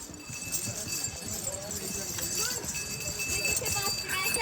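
A horse's hooves clip-clop on a trail near a temple, a steady walking rhythm under a voice calling out and ongoing outdoor noise.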